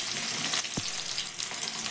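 Fish frying in oil in a pan, a steady hissing sizzle heard up close for a brief moment, with a faint clink in the middle.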